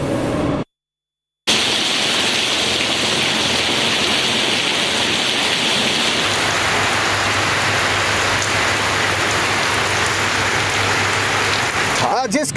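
Monsoon rain pouring down in Karachi, a dense continuous hiss of heavy rainfall hitting surfaces, loud and close, broken only by a brief moment of silence near the start.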